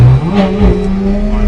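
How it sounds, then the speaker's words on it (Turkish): A Ferrari engine revs loudly up close on a street in Trabzon, a deep throaty roar that rises and falls with a few sharp bursts that could be exhaust pops. "Patlar ya egzozu patlaması"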